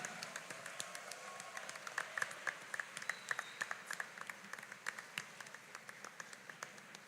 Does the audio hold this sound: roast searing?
no